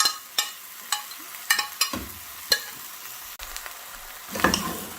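Aubergines and other vegetables cook in a pan for a potato gratin, a faint continuous sizzle broken by a string of sharp utensil knocks and scrapes, ending in a louder rustle of stirring.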